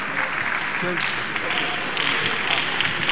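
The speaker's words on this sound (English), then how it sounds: "Let's clap our hands." Congregation clapping hands at a church birthday lecture gathering, a steady dense wash of applause throughout with faint voices mixed underneath.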